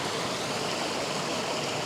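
Water flowing steadily through natural rock pools, a continuous broadband rush like a stream or small cascade, close and even throughout with no voices.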